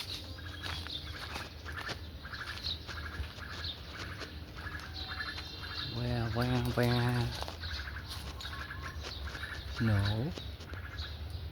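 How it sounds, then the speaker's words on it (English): Bird singing from a tree outdoors: faint repeated chirps and a few louder, clearer call phrases ring out over low ambient noise, with people talking briefly nearby. "I hear that sound, the sound of the bird on this tree."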